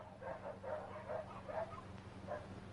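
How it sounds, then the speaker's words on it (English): Several nervous dogs bark in a rapid, uneven series of yaps and bow-wows, somewhat distant and muffled over an old, hissy film soundtrack. "What's all the barking about?"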